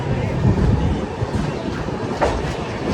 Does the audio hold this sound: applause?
no